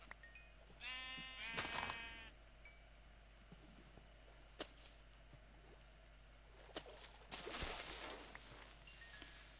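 Minecraft sheep bleating in a quavering burst near the start, followed by scattered clicks and soft footsteps in quiet game ambience.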